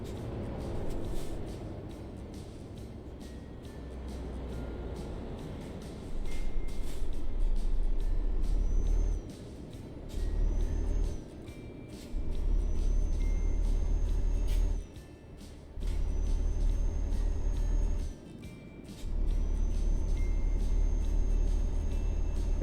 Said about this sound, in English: Oh, and then there's a truck coming.